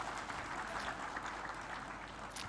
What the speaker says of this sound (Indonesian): Kita beri tepuk tangan sekali lagi untuk Bang Thorik.